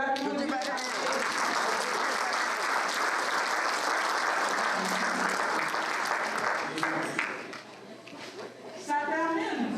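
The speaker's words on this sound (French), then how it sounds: "on va l'applaudir." An audience applauds steadily with dense, sustained clapping for most of the stretch, easing and thinning briefly near the end before picking up again, with a few voices mixed in.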